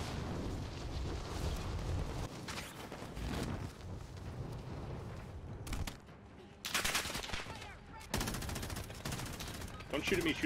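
Gunfire in the Warzone video game, bursts of rapid shots and loud cracks in clusters with brief gaps, set against a dense, noisy game background.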